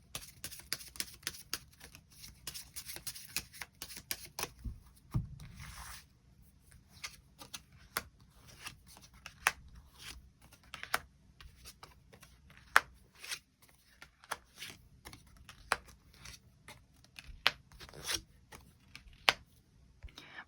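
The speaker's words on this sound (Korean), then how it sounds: "추가 카드 뽑아보도록 하겠습니다" Tarot cards being shuffled and drawn, with a burst of quick riffling clicks at the start, then scattered soft card snaps and slides spaced out over a quiet room.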